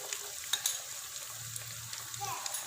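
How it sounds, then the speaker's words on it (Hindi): Ginger garlic paste frying in a spiced masala makes a soft, continuous sizzle, with light clicks and scrapes of stirring heard close by. "लहसुन का पेस्ट भून चुका है।"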